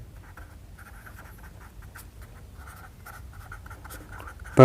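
Pen scratching across paper or a board during a maths lesson on group theory, a soft continuous writing rasp with small rhythmic strokes, close and fairly quiet, ending in a brief louder bump.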